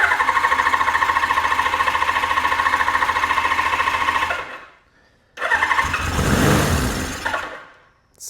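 A Suzuki GS750 motorcycle engine cranks loudly and steadily, cuts out into a brief silence, then catches and runs rough for a couple of seconds before dying away.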